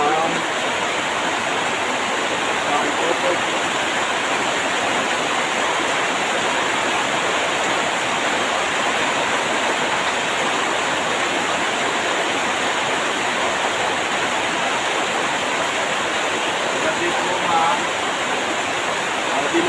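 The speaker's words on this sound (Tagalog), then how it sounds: "Tuloy pa rin ang ulan." Dense, steady roar of heavy typhoon rain in Subic pouring without pause, a constant broadband hiss filling the whole stretch, close and loud.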